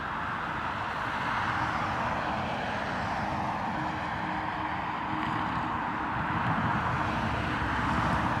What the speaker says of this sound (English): An E195 E2 Embraer for KLM.